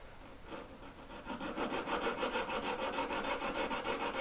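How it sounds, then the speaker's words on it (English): A metal file rasps down the side of a jewellery claw held in a collet, starting light and then settling into a steady, close back-and-forth stroking rhythm of about a dozen even strokes. "holding this up at an angle a little bit, and just file down a little bit"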